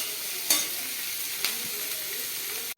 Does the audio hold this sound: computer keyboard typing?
no